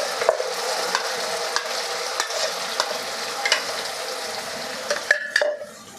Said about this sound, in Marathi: आपल्याला हे परतून घ्यायचं आहे तेल सुटेपर्यंत आपल्याला हे परतायचं आहे